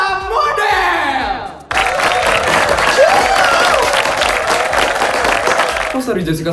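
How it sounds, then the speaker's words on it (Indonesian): Audience at a school fashion show for Smanesta Model bursting into loud applause and cheering after a brief lead-in, a dense crowd roar that holds for several seconds before fading. "Oke, beri tepuk tangan yang meriah untuk Smanesta"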